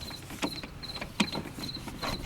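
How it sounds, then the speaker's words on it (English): The handle clamp knob on a Ryobi 40V brushless single stage snow blower is turned and tightened, giving a few faint close creaks and clicks with squeaky ratcheting bits spaced irregularly. "Tighten the handle clamps."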